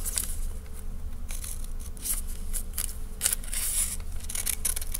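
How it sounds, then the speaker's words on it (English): Scissors snipping through card along marked lines for a drawing viewfinder, a close series of small crisp cuts over a steady background hum. "I'm going to cut along these lines."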